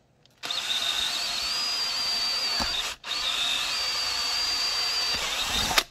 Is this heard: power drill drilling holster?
yes